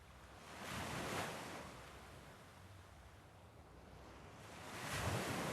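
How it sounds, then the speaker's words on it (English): Ocean surf washes steadily in the background, with two louder waves swelling and breaking near the start and end over a constant hiss of rolling water, and no voices. "With the sounds of the waves still in the background"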